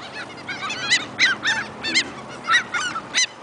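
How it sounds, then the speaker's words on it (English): Geese honk while eating French fries outdoors, giving about eight loud, close calls in an uneven rhythm with short gaps between them. "Birds love French fries."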